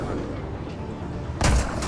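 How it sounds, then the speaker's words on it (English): A mounted machine gun fires in the game Mass Effect Andromeda, a sudden loud, close burst of gunfire cutting in near the end after a stretch of steady background game noise. "he's basically using a mounted machine gun"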